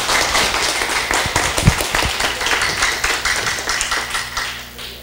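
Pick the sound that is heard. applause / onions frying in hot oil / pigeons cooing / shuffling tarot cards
applause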